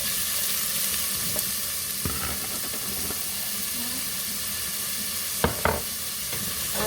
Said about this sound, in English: Get these sauteed up.